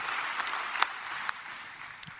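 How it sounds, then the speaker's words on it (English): A live audience at a TwitchCon roast claps briefly for a guest, a short, fairly faint burst of applause with a few sharper claps standing out. "Everybody get a round of applause for PentaHearth."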